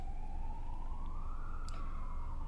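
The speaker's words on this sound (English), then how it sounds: "Yes, there's the siren." An emergency vehicle siren wails faintly in the distance outside, a slow rising tone under steady background noise and hiss.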